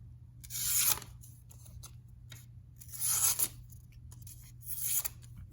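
A Mora Classic No. 2 knife cutting in three close, separate rasping strokes with short pauses between them, and no talking.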